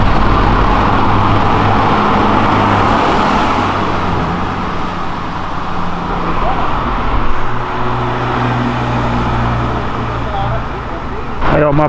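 A bus rumbling past on a city road amid continuous traffic noise, a loud low engine drone rising and falling close by, with people talking over it inside a car.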